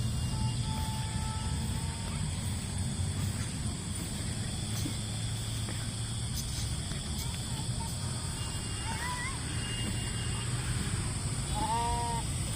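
Sheep loose in a plot bleat a few times at middle distance over a constant hiss of outdoor background, with people talking nearby.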